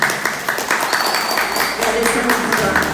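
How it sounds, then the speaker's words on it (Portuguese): An audience at a Brazilian academic event on transport and logistics resilience gives a short round of applause, dense clapping throughout with voices mixed in. "professora Vanessa, professor Alejandro, uma salva de palmas para eles"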